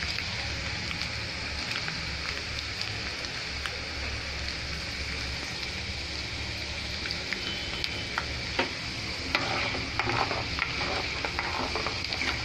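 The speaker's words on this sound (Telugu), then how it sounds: "కొంచెం వేయించాలి." Tempering sizzling in hot groundnut oil for a tomato pickle, a continuous fine crackling hiss with occasional stirring clinks, steady and moderately quiet.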